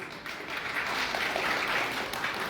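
An audience at a weekly political party general assembly breaks into applause, a dense, steady wash of many hands clapping that holds evenly from start to finish.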